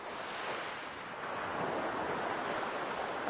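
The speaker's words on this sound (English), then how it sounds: "It's gonna get louder now, getting closer to the ocean." Ocean waves break on a beach in Mexico, a soft, steady wash of surf that swells slightly louder toward the end, heard alone with no voices.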